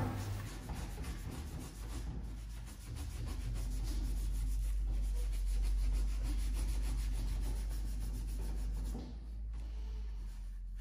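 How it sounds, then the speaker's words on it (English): A Scotch-Brite pad rubs over an alloy wheel being prepared for painting, giving a steady, close, continuous scrubbing sound with no talk. "use a bit of Scotch-Brite and just finish off any shiny bits"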